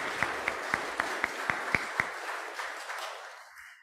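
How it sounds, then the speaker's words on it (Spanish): A small church congregation claps at a Spanish-language Sunday mass, a brief sparse round of applause with a few distinct sharp claps standing out before it quickly fades into a quiet, reverberant room. "Aplauso para ella."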